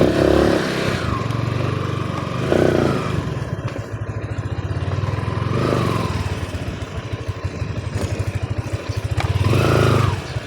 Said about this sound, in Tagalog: Bawal dyan ang mabilis na motor.